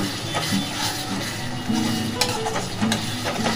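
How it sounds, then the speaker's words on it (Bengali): A spice masala is stirred together with sour yogurt in a pan over low heat for Bengali mutton kosha, making a close, continuous scraping and soft sizzling with a few light knocks of the spoon. "আবার মশলাটাকে একটু টক দইয়ের সাথে আমি নাড়িয়ে নেব।"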